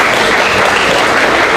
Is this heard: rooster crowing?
no